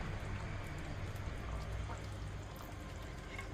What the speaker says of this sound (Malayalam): കുറച്ച് വെളിച്ചെണ്ണ കുറച്ച് ഒഴിക്കാം.